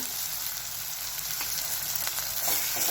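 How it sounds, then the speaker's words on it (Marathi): Potato curry masala with salt and turmeric fries in a pan, a constant soft sizzle with occasional scraping stirs, fairly quiet and without voices. "अजून एकदा चांगलं परतून घेणार आहे"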